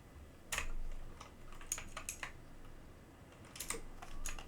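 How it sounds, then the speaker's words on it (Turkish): Clattery computer keyboard, typed in irregular bursts of key clicks with brief gaps, close and fairly quiet, no voices. "Klavyenin sesi çok gelebilir arkadaşlar."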